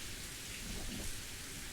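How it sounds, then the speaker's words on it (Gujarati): Steady rain falls across the Amreli countryside in Gujarat, a dense, even hiss of drops on surfaces, continuous and unbroken, with no voices. "અમરેલીમાં અલગ અલગ પંથકમાં વરસાદ વરસી રહ્યો છે"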